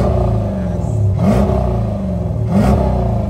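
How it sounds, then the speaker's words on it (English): A Dodge Durango V8 rumbles steadily through its muffler, with two short throttle blips lifting the engine note about a second apart; loud and close, no talking. "I'm gonna give you a little sound of the muffler."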